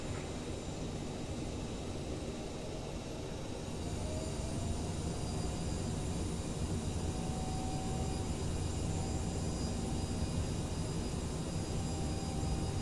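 A CRJ900 jet airliner taxiing to the gate, heard from the cockpit: a constant loud engine roar and rumble with a steady whine, continuous and unchanging.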